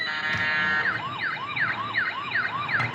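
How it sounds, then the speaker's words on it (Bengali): A light-up musical toy police car for kids plays an electronic siren, a rapid repeating warble of rising and falling chirps, loud and close, with a few small clicks. "আপনারা শুনতে পাচ্ছেন এটা একটা পুলিশের সাউন্ড হচ্ছে"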